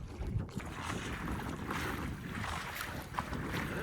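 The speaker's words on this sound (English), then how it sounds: "Just a little bit of wind." Wind blows across a sailboat cruising on Lake Roosevelt, a steady broadband rush with gusty buffeting against the microphone and faint water sounds underneath.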